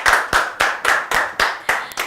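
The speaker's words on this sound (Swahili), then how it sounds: "Makofi." A crowd clapping in unison at a prize-giving event, with about seven sharp, evenly spaced claps in quick rhythm, loud and close.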